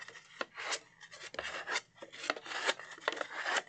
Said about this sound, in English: I'm going to go along the bottom edge with my big old spatula, making sure that I have a nice stick on this.